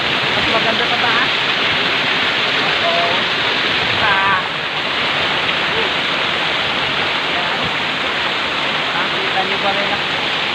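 Waterfall at El Rancho Trail and Resort, a loud, steady rush of falling water close by, filling the whole clip with continuous broadband roar and faint voices briefly heard beneath it.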